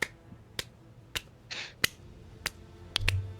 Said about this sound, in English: I like the half-hearted claps.